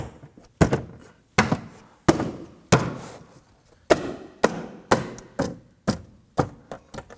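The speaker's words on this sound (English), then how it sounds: "Gonna give that door panel a few bumps on there to snap that into place." A front door trim panel on a 2003-2014 Volvo XC90 is bumped by hand to snap its clips into place, giving about a dozen sharp, close thumps in an uneven rhythm, each with a brief rattle, with no talking.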